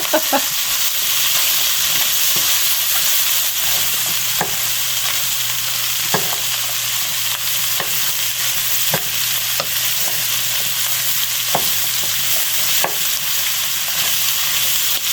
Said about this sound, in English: The mushrooms will cook down.